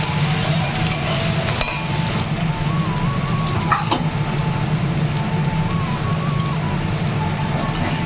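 Spice masala sizzles and is stirred in a pan for a Bengali tiffin, a steady close frying hiss with continuous scraping and a faint background tone throughout.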